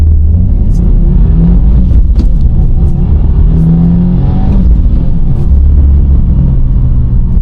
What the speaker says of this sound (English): Do a little acceleration pull.